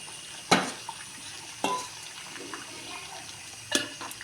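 Washed dry fish are dropped into a pot of simmering curry, giving three distinct soft splashes and plops spaced a second or more apart. The pot bubbles quietly underneath, with no talking.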